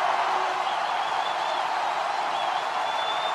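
A stadium crowd at a 2012 South Carolina vs UAB college football game roars in a loud, sustained wash of noise with faint whistles riding on top, steady from start to finish.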